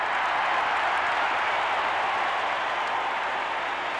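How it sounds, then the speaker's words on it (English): A stadium crowd applauds at a 1979 Giants versus Saints football game, a steady wash of distant clapping and crowd noise that holds evenly throughout, heard from up in the broadcast gondola. "Some crowd applause on the replay up here on the gondola"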